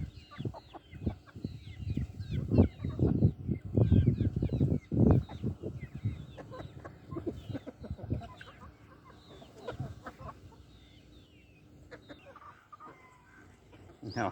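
Hens cluck repeatedly in a yard of backyard poultry, a busy run of close clucks in the first seconds easing into sparser calls, with someone speaking now and then.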